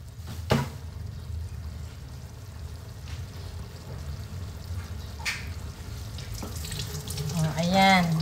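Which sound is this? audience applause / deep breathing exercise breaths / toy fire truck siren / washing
washing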